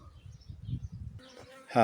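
A low, wavering buzz of many bees hums steadily near a hive, ending in a brief louder, brighter burst.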